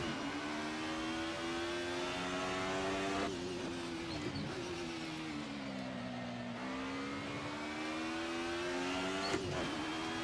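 Race car engine in the Assetto Corsa racing game on cold tires, a continuous droning roar with pitch rising and dropping through gear changes across the lap, steady and fairly loud, no talking.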